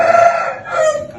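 Young chicks hatched in April cheep and call in a short, fairly loud burst of overlapping bird-like vocalizations, with a brief dip before the calling resumes, no speech.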